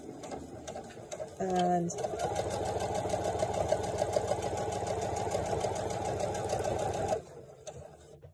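A Brother F480 sewing machine stitching at a steady fast rate, close and clear for several seconds after a short electronic beep, with brief speech over it.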